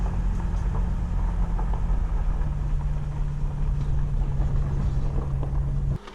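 A vehicle towing a camping trailer slowly along a rough washboard dirt road, heard as a steady low engine rumble with constant rattling and bumping that drops away abruptly at the very end.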